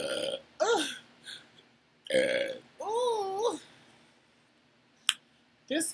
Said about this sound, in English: This is the burping part of my mukbang and ASMR video.